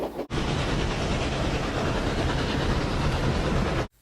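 A steady, continuous rumble of a steam locomotive chuffing in motion, dense rhythmic clatter holding at an even loudness for a few seconds, then cutting off abruptly.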